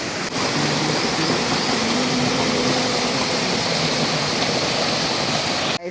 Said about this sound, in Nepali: उता माथि झर्ना हेर्न सक्नुहुन्छ गाइस